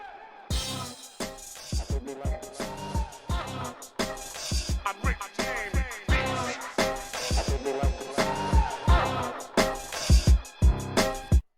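Full hip-hop beat with punchy drums, a chopped vocal sample and a melodic sample layered together, loud and dense with rhythmic hits throughout and no talking.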